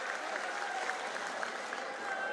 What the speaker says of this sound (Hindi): उनके लिए मैं आप सबसे आग्रह करता हूं जोरदार तालियों से स्वागत करें।